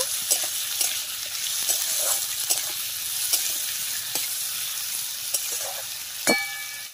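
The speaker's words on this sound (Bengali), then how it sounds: "টমেটোর ওপরে অল্প একটু নুন দিয়ে নেব, যাতে টমেটোটা ভালোভাবে সিদ্ধ হয়। নিয়ে ভালোভাবে নাড়িয়ে দেব।" Salted tomatoes sizzle and fry in a pan while a utensil stirs them, giving steady close crackling with soft scraping strokes every half second or so and a brief sharper clink near the end; no talking.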